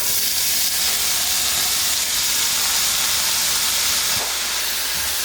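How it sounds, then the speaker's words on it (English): Chopped baby spinach dropped into a hot pot for bhaji gives a loud, continuous steamy sizzle and hiss, close and steady throughout with no talking. "So here's where now we will add the chopped spinach to the pot."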